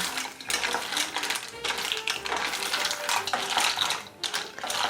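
Mussels are stirred in white wine in a pot, with a steady clatter and scraping of shells against the metal over a continuous hiss of simmering liquid. The sound is close and busy throughout, and no one talks.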